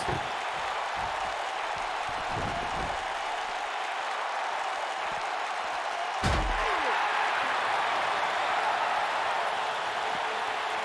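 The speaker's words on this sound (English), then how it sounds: "by the sound of this crowd, I think they're getting what they wanted" A wrestling arena crowd in WWE 2K19 roars continuously at an even level, with one dull thud partway through and no speech.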